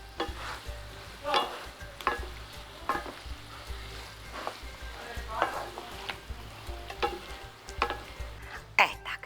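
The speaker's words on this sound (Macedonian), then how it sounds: "Ке си го оставиме сега да си се пржи." Okra mixture frying in a pan gives a steady sizzle, broken by repeated scraping stirs at an irregular rhythm, close and moderately loud with no voices.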